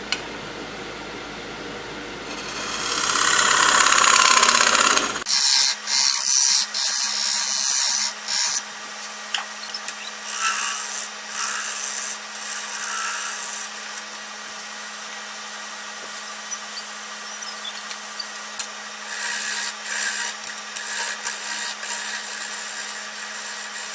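A 1/4-inch bowl gouge cuts a dovetail into a white oak bowl spinning on a lathe: a loud, rising, hissing scrape for about five seconds, then it stops, leaving a quieter machine hum with faint ticks and taps.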